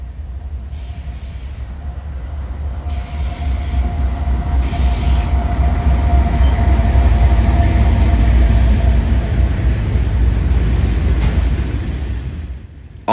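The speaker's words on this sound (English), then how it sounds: "the wait would only be about 15 to 20 minutes before our eastbound train rolled up on CP Wing" A CSX eastbound freight train of solid autoracks passes close by, led by an AC44C6M locomotive with an ES44AC at the rear, its heavy rumble swelling and then fading, with wheels squealing and rail noise rolling steadily throughout.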